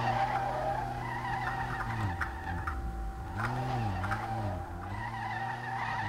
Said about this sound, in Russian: Срывается в занос.